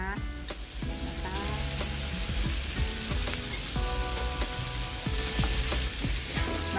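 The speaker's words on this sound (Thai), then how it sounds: "ตอนนี้เราก็ผัด พริกมา ได้ที่แล้วนะคะ" Thai-style fish balls stir-fried with chilies in a hot wok, a steady loud sizzle with bursts of scraping stir strokes throughout, no talking.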